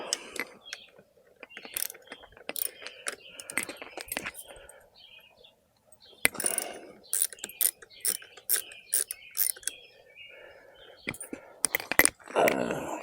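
A socket wrench on a long extension loosening 10 mm car battery bolts, giving close, irregular bursts of ratcheting clicks separated by pauses, with faint handling noise.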